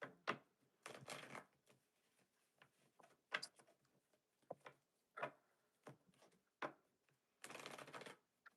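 Tarot cards are shuffled by hand, quiet close riffles and papery flutters in short bursts, with soft taps and clicks in between and two longer riffles, no talk.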